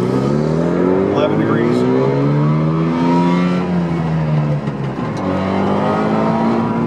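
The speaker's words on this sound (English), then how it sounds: "A little Subaru 360 is all warmed up." Two-stroke engine of a small Subaru 360 car revving and pulling through the gears on the road, close and loud with rising and falling pitch across shifts, while someone talks briefly over it.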